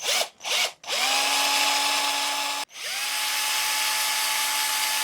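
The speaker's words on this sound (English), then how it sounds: "now it's time to go ahead and drill out the pilot holes for the hook eyes and the tie-on eye" A power drill bores pilot holes for hook eyes in a hand-carved wooden hickory shad crankbait lure. A close, loud whining spin starts with two quick blips, runs steadily, stops briefly, then spins up again.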